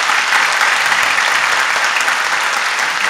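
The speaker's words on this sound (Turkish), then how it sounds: "Burada hani Aydan'ı ve Nazmi'yi bir alkış isterim." Audience at a comedy show gives two performers a round of applause: thick, even clapping from a crowd, loud and unbroken from start to finish.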